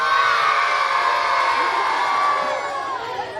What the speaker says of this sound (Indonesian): yang merasa grup ini bagus, silakan tepuk tangan dan teriak